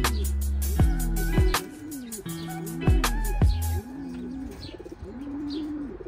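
Long-distance racing pigeons coo in a loft, with repeated close, deep, rolling coos, some overlapping calls, and soft chirps between them.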